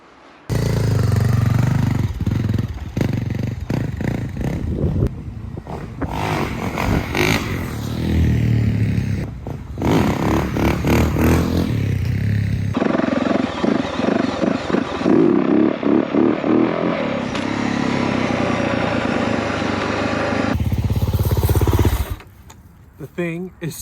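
A 2023 Yamaha YZ450F dirt bike with a J22 fitted rides up and down a paved road, its engine revving and surging loudly in repeated bursts, cutting off near the end, with some talk mixed in.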